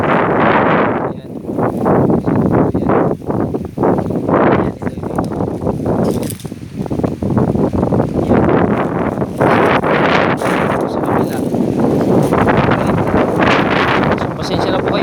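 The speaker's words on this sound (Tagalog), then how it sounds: "Pasensya na po kayo, malakas ang hangin." Strong outdoor wind buffets the microphone in loud, continuous gusts during mango tree care in a Philippine orchard, with someone speaking intermittently over the roar.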